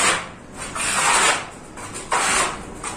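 A small trowel spreads gypsum plaster compound across a wall, making broad rasping scrapes in repeated strokes, each swelling and fading, close and steady with no talking.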